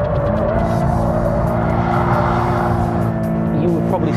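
A Toyota GT86 sports car slides sideways in oversteer, its engine roaring loud and close with a sustained tyre squeal running over it.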